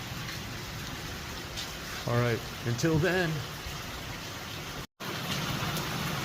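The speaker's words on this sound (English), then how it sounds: "It's raining hard here." Hard rain falls in the Sonoran desert, a steady moderate hiss of drops on surfaces heard throughout, while someone speaks briefly partway through.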